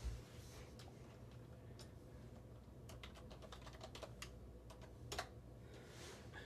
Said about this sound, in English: I'm typing something wrong.